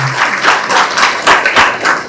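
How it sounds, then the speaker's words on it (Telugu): An audience at a civic meeting breaks into loud, sustained applause, with dense clapping in uneven surges rising and falling close by. "ఒకసారి చప్పట్ల ద్వారా మీ అందరి ఆమోదాన్ని"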